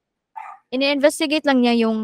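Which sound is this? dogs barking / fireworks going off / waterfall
dogs barking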